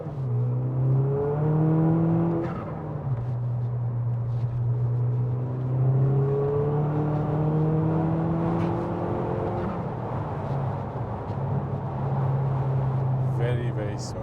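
A VW Jetta Mk5 turbocharged four-cylinder accelerating, its engine and exhaust droning steadily with tones that climb and then reset through the gears, fairly smooth and moderate in volume, with people talking over it inside the car.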